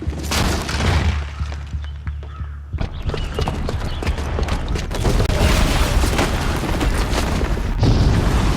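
Heavy booms and blasts from a bomb explosion in the video game Horizon Zero Dawn, loud and close, with a deep rumbling low end, scattered impacts and a dense roar of debris.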